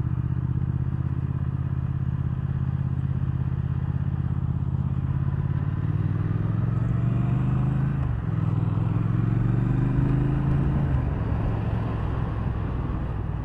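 A 2019 Triumph Thruxton R 1200 motorcycle engine runs with a steady, close low throb, rising briefly in pitch as it revs and settles again.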